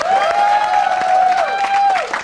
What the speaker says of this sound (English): Nina, what are they clapping for?